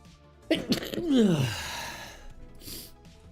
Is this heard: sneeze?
yes